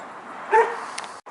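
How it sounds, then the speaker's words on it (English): Dogs barking somewhere outdoors, a short bark or yelp rising briefly above steady background noise at moderate distance, with no speech. "The dogs are barking, bunch of noise around here"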